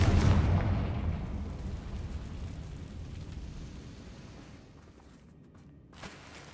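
A Confringo spell explosion in the video game Hogwarts Legacy bursts with a heavy boom, then a rumbling roar slowly fades over several seconds, followed by a small pop near the end.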